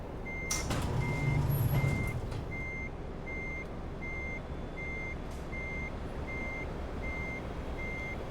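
Reversing beeps from a truck in Euro Truck Simulator 2 repeat at a steady, even pace, a thin high tone over a low engine rumble, with a brief air-brake hiss early on.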